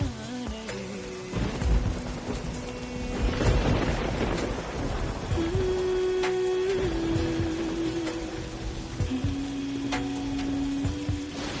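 Steady heavy rain with rumbling thunder swelling midway, loud and continuous, with sustained musical tones running underneath.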